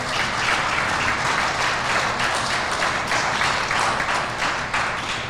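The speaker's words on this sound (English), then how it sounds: "We'll give him a round of applause anyway." A room of attendees at an anniversary event breaks into dense, sustained applause, loud and even throughout with no talk over it.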